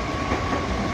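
Container freight train passing close by near Jatinegara station, a steady loud rumble of rolling wagons with faint clickety-clack running through the whole stretch, no voices.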